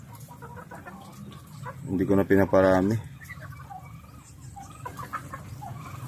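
Native chickens cluck and call up close in a brief loud burst in the middle, with scattered softer clucks before and after, while someone talks in a low voice.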